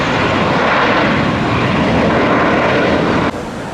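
A heavy Airbus A300 jet roars loudly and continuously at an airport bound for Louisville, Kentucky, a broad steady engine rumble that drops off slightly near the end.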